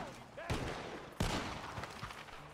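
Gunshots ring out from a barn in the Red Dead Redemption 2 video game, two sharp loud reports about a second apart followed by fainter pops, with some background speech.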